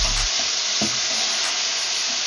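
Octopus adobo stew with tomato and chili pepper simmers and sizzles steadily in a pot as it is stirred, a continuous close hiss with a faint knock from the spoon.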